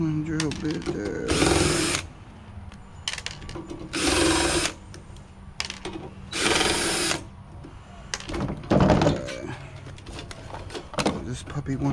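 A power drill whirs in short bursts while scrapping lab equipment, three or four loud spurts separated by quieter gaps with a voice and handling noise in between.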